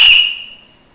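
A shrill whistle blown through a filbert nutshell disc held between the index and middle fingers gives one brief piercing high tone that fades quickly, close and alone.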